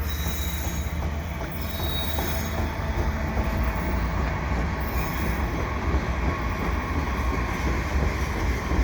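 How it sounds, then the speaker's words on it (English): Quebec North Shore and Labrador AC4400CW locomotives lead a winter train past at Valois, a steady loud rumble of rolling wagons with squealing wheels and rhythmic rail clatter throughout. "Quebec North Shore and Labrador locomotives."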